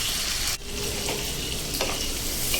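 Chopped tomato fries in hot oil for a mustard-paste tilapia curry, giving a steady, dense, close sizzle with a brief dip and a few faint crackles, no voices.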